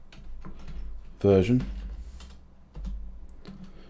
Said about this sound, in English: now we can test that by typing in the word Python space